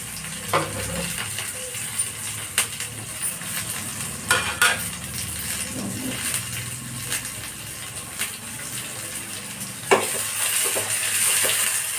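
Onions, curry leaves and chillies fry in a pan with a soft steady sizzle, broken by repeated scraping and clinking strokes of a spoon stirring against the metal.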